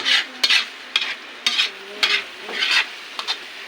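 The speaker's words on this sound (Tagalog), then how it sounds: "Ganyan pala ang pagluluto ng itlog na may sibuyas at kamatis." Eggs frying with onion and tomato in a pan, heard as rhythmic bursts of sizzling from repeated stirring strokes, with light scraping and clinks between them, close and fairly loud, with no talking.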